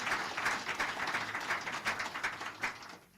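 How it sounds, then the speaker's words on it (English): A crowd claps for the presidency during a Nigerian call-in programme, steady moderate applause with rhythmic hand claps that fade out near the end, with no talk over it. "Make we clap for presidency"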